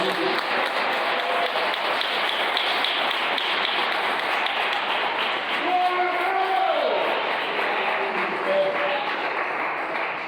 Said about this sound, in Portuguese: Pode bater palmas bem alto para Jesus.